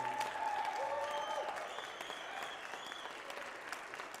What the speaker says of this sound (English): Can you keep that round of applause going for them one more time?